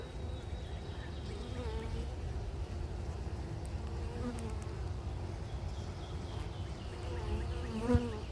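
A dense, steady buzz of many honey bees close by during a hive inspection, continuous throughout with occasional louder passes near the end.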